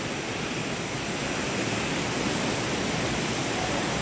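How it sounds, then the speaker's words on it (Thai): Small waterfall at Khao Yai National Park in Thailand, a steady, dense rush of falling water that fills the scene evenly and continuously, with no voices. "น้ำตกนพรัตคาลาครับ เป็นน้ำตกไม่ใหญ่มาก"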